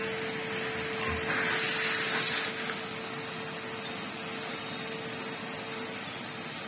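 A Henry HVR160 vacuum cleaner runs steadily, a constant whine and airy rush at moderate loudness. A brief bump of handling noise comes near the start, and no one talks.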